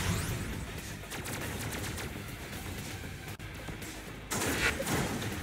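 Gunfire in the robot-building game Robocraft. Rapid, repeated shots crackle over a constant loud battle din, the firing surges louder near the end, and one brief dropout cuts the sound partway through.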